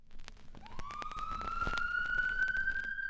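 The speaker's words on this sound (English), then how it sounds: "The ambulance's incessant siren wailed" An ambulance siren rises and holds a steady wail over rumbling traffic noise, loud and fairly close throughout.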